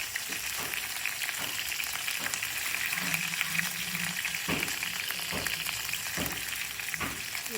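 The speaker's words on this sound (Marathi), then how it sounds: "इथे मोहरी जिरे टाकलेले आहेत. आता टाकते मी मिरच्या." Chilies drop into hot oil already popping with mustard seeds and cumin, making a close, continuous frying sizzle broken by several sharp spatula knocks and crackles.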